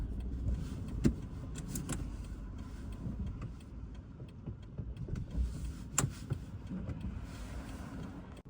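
A car pulls over and stops to park on a Melbourne street during an Uber Eats delivery shift, heard as a steady low interior rumble with a few faint clicks and knocks, no talking.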